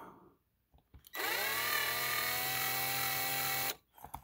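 A power drill bores out a rivet on an older Hot Wheels Redline Custom Charger die-cast car, one steady, loud, high-pitched whine running about two and a half seconds, with faint handling noise before and after.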